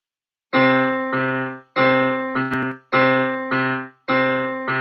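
Piano chords in a steady pattern, held notes in the low register with repeated notes on top, four short phrases separated by brief gaps, clear and close.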